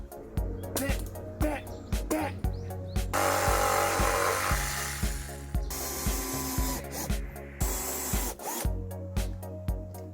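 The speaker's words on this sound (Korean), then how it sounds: "얘를 이거 좀 자르는 작업을 좀 하겠습니다" A power tool cuts a piece of a homemade target in repeated short buzzing bursts, with a longer continuous cut in the middle, loud and close.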